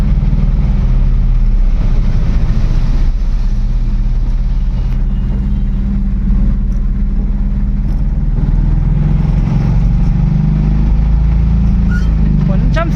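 A vehicle engine idles and rumbles steadily in flooded traffic with water rising toward the silencer, a loud, low, continuous drone close by, with a voice talking over it.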